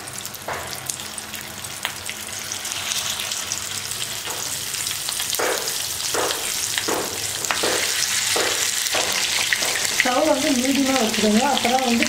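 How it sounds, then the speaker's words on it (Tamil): Masala-marinated mackerel frying in hot oil gives a steady loud sizzle throughout, with rhythmic stirring or scraping knocks in the middle and a faint voice near the end. "மீன் போட்டுக்கலாம் எண்ணெயில்."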